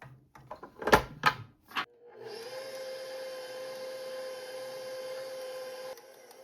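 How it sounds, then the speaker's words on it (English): A stand mixer fitted with a dough hook runs steadily on low, kneading pretzel dough after a few sharp knocks and clatters; the motor hum carries on evenly for about four seconds, then stops, with no talking. "Now mix on low for about a minute using a dough hook attachment."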